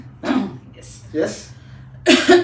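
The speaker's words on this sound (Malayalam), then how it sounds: "ശബ്ദം ചുമ വരുന്നു." A woman gives a few short coughs and throat-clears, close and fairly loud, in separate bursts spread across a couple of seconds.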